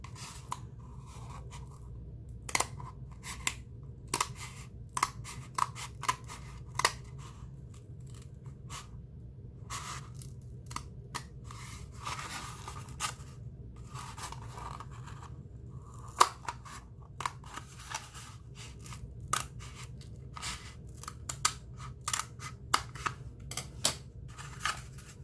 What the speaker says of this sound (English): and then I can go in with the scissors. I'm just going to cut